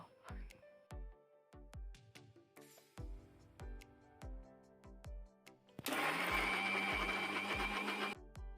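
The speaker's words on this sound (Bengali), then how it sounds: "এবার ঠান্ডা হলে আমি মিক্সিতে পেস্ট করে নেবো সব কিছু একসাথে দিয়ে আমি পেস্ট করে নেব" A kitchen mixer grinder whirs loudly as it blends boiled banana stem into a paste, a steady dense roar after a few seconds of clattering preparation knocks.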